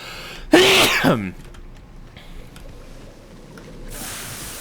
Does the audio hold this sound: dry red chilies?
no